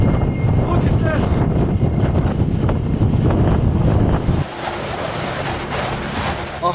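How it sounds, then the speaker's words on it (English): Strong hurricane wind gusts roar and buffet the microphone in a loud, continuous rush, easing somewhat toward the end, with a faint voice underneath. "this storm just continues to wreak havoc here with these gusts"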